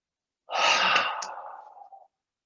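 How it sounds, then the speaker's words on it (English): One long, breathy exhale follows a soft intake, close and airy, swelling quickly and then fading gradually over about a second and a half in an otherwise silent space. "long breathe in and then out"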